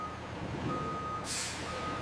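A truck delivering bananas to a factory sounds a steady reversing beep over a low engine rumble, then gives a sharp hiss of air brakes, heard at moderate distance with no talking.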